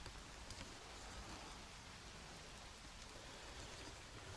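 Rain falls steadily onto a forest canopy beside a river, a soft, even hiss of countless drops with no talking.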